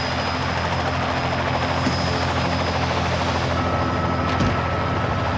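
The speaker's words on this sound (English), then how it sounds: "I don't trust this helicopter for a second." A helicopter drones steadily and loudly throughout, its rotor and engine a constant dense roar with no break.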